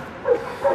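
Two quick, loud barks come from a dog close by during protection training, evenly spaced and standing alone without talk.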